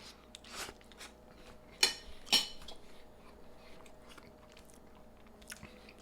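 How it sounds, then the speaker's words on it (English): Someone bites into a microwaved frozen Rao's lasagna with beef and pork meat sauce, ricotta, pecorino romano and mozzarella, giving two sharp crunchy bites followed by soft, quiet chewing up close. "Let's get a whole full bite here with some cheese and everything"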